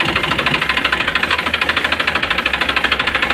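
A tractor engine runs with its original silencer fitted, a loud, close, steady chugging beat with regular knocking pulses and no talk.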